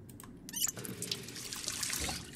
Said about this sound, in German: Komm, erstmal das gelbe Wasser trinken.